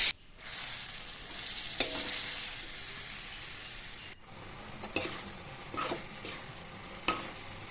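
Marinated chicken for kadhai chicken sizzling in a pan while a spoon stirs it, with a continuous fry hiss broken by several scraping strokes and a brief pause midway.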